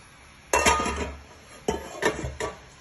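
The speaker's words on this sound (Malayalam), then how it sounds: "ഇനി നമ്മൾ മാരിനേറ്റ് ചെയ്ത് വെച്ചിരിക്കുന്ന ചിക്കൻ ഇതിനകത്തോട്ട് ഇട്ട് കൊടുക്കണം." Marinated chicken goes into masala in a cooking pan and gets stirred, with two separate bursts of metallic clanking and scraping close by, about a second apart, and no voice.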